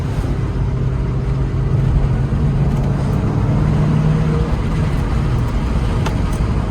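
A 1997 Ford Mustang SVT moving at speed, giving a loud, steady roar of engine and road noise that holds unbroken throughout with no voices.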